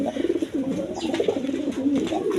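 A pair of pigeons offered for sale coo close by, with repeated soft throaty calls that continue through the short stretch without talk.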